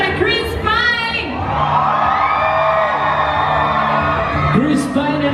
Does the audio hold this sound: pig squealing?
no